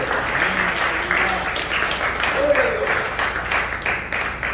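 A church congregation applauds together in a steady wash of clapping that fills the room, with voices mixed in beneath the applause throughout.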